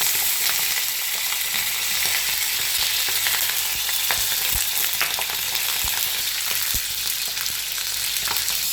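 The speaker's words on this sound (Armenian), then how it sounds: "Տապակում ենք սպի պղպեղները։" Bell peppers frying in a pan for a home-cooked Sunday lunch, giving a steady close-up sizzle with occasional sharp pops and crackles throughout, no talking.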